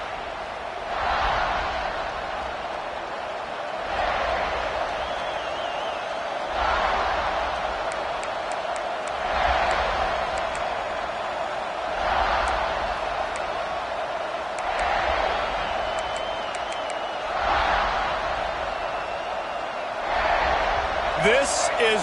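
Football stadium crowd at a Gamecocks game makes a steady roar that swells and ebbs in regular waves, with a commentator talking over it throughout.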